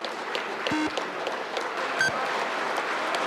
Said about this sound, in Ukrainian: Результат присутні в залі і в ложах гостей зустрічають оваціями